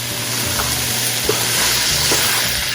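Vegetables with plum tomatoes and cilantro sizzle steadily in a pan on the stove, a loud, close, continuous frying hiss with occasional soft stirring bumps and no talk.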